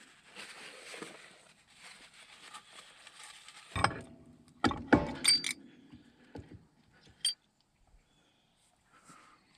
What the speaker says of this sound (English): You can hear chunks of metal hitting the pan here.